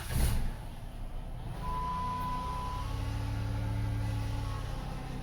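A 2010 Dodge Grand Caravan SXT V6 engine starts with a brief crank and catches, then settles into a steady, close idle hum with a faint electronic chime tone.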